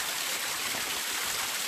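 Spring water running on Mount Wellington near Hobart, Tasmania, a steady, close, continuous rushing wash with no breaks.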